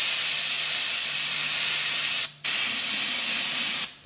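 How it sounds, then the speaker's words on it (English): Brake parts cleaner sprays from an aerosol can during a Ford 8.8 inch axle gear install, a loud continuous hiss that cuts out briefly, resumes, then stops. "So first thing I'm going to do is get some brake parts cleaner"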